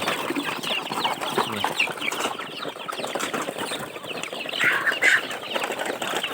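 Busy barnyard bustle of chickens, chicks and ducklings clucking and chirping continuously, with occasional flutters, fairly close and steady throughout, in a village yard.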